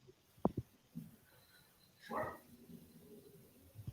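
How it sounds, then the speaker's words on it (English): A pet dog barks indoors at someone outside: a couple of sharp barks early, then a softer yelp and scattered quieter barks against a low room background. "Oh, Ted is off barking again. There must be someone outside"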